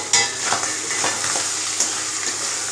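Goat intestine fry with pepper being stirred in a pan, a steady close sizzle with repeated scraping strokes of the spoon at an uneven rhythm, no voices.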